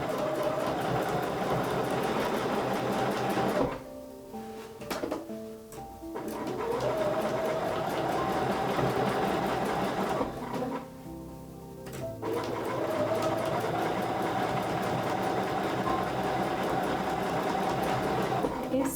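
Sewing machine stitching quilt seams, a fast steady mechanical whir running in long stretches, broken twice by short pauses with a few slow, separate stitch clicks, close up with faint talk underneath.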